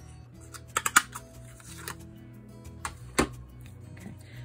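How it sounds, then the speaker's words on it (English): A Stampin' Up! paper tag punch works on paper, giving a few sharp clicks and snaps close by, with one pair in quick succession early on and another firm click later, against a quiet room. "I'm going to use this tag punch also from Stampin' Up! And you can actually cut 3 different sizes using this punch"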